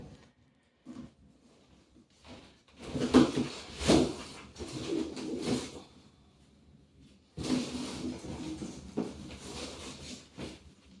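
Pet pigeons in a loft coo close by in soft, low, throaty bursts, several overlapping calls rising and falling in two main clusters with quiet gaps between.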